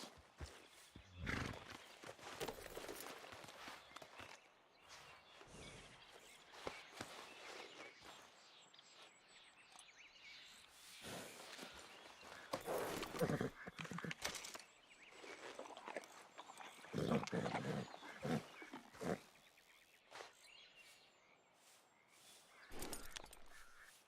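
Horse hooves clip-clop at a walking pace in the video game Red Dead Redemption 2, joined by occasional whinnies and faint birdsong, fairly quiet with uneven bursts.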